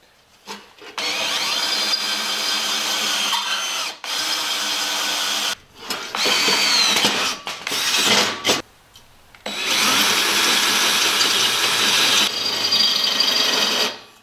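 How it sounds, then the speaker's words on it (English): A drill press bores a finishing hole at an angle while a driver's seat is installed in a converted school bus. The drilling comes in loud, close bursts of whirring and grinding, separated by short pauses. "Why did you use the drill press?"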